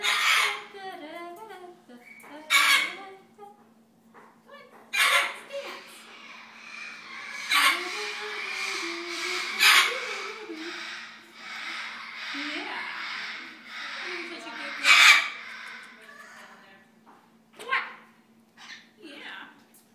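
A hyacinth macaw parrot gives several loud, harsh squawks spaced a few seconds apart, with softer chatter and a person's voice between them.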